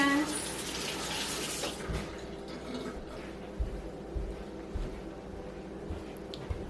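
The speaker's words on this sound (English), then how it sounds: "Go ahead and wash my hands." Hands washed under a running tap, a close rush of water that is loudest at first, then settles into softer splashing with scattered knocks and clatters, no clear talking.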